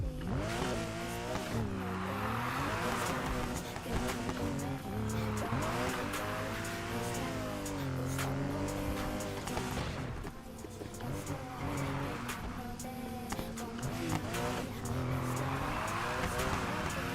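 A car engine revs and surges with rising and falling pitch, with occasional tire squeal, loud and continuous under someone talking.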